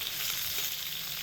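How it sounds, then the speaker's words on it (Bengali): Green mango pieces sizzle in hot oil with tempering spices, a dense continuous close-up frying hiss with no voices. "ফোড়নের মধ্যে আম দিয়ে একসঙ্গে এবার খুব ভালো করে 2 থেকে 3 মিনিট ভেজে নেব।"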